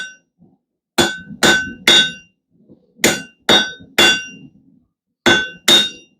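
A blacksmith hammers hot round stock at the edge of an anvil to taper it to a point, ringing strikes falling in three groups of three, with brief pauses between them.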